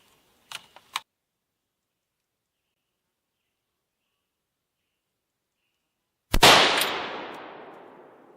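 A rifle in 7.62 Yahweh with a 16-inch barrel fires a single 110 grain Hornady VMAX round, one loud close crack with a long decaying echo, preceded by a few quiet clicks of handling and a long silence.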